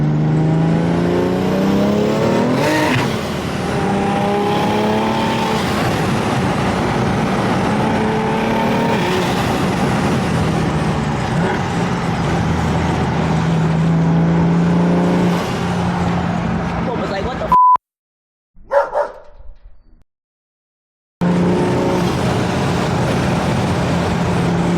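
A single-turbo BMW F80 M3 drones loudly and steadily at highway speed, with a rich layered engine tone that cuts out briefly near the end before returning.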